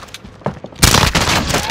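Pistol and shotgun gunfire in Call of Duty: Modern Warfare, a few scattered shots followed by a sudden loud blast and dense firing that stays loud to the end.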